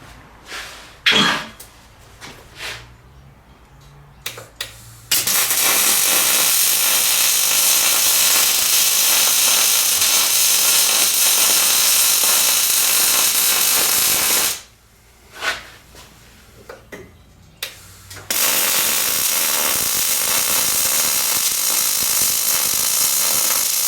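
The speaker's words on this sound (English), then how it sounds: "I'm going to make 2 welds on it here real quick." Welding of a trailer bracket on a Fireball Tool Marauder table, with two long steady loud hissing arcs separated by a pause filled with brief clanks and handling noises.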